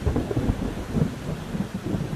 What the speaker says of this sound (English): experiencing the same rain, lightning, and thunderstorm